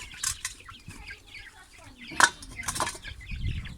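Chickens in a coop cluck and squawk nearby in scattered bursts, with a sharp flurry in the middle and some low background noise.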